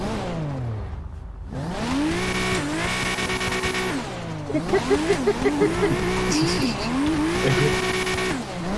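A car drifts in the GTA video game played on a steering wheel, its engine revving up and down with bursts of tire squeal and skidding, loud and close, while people talk and laugh over it.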